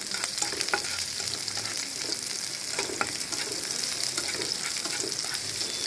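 Onions sizzle steadily in a pan over medium heat for vegetable noodles, a constant close frying hiss with occasional light stirring scrapes and no voices.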